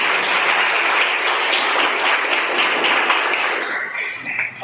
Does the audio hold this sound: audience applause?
yes